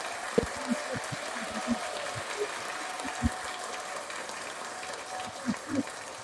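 Church congregation applauding during a Sunday sermon, a steady, moderate patter of many hands clapping with a few sharper claps standing out, slightly distant and continuous.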